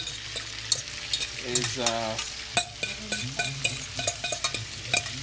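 Saltfish tossed and stirred in hot vegetable or olive oil for Trini-style sautéed saltfish: a steady sizzle with repeated utensil scrapes and clinks against the pan, close and fairly loud, with a brief spoken word.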